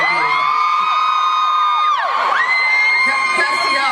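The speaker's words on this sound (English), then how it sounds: "I think they're screaming" A convention panel audience screams and cheers in a loud, sustained burst, with high shrieks and whoops rising and falling over the crowd.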